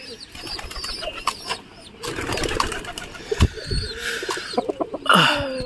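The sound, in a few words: pigeons cooing and flapping wings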